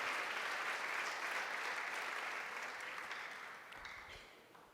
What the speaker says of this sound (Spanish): ¿Qué tal si le damos un aplauso a nuestro Dios?